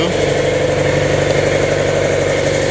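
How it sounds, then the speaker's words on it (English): Air compressor running nonstop in a workshop where a 1965 Mustang is under repair, a loud, close, droning motor hum with a steady rhythmic pulse and no pauses. "compressor running there, so."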